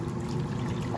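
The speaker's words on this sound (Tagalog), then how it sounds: "Lalagyan natin ng tubig." Water poured into a cooking pot holding chicken seasoned with peppercorns, bay leaves and salt, making a short, steady, close splashing stream with no talking.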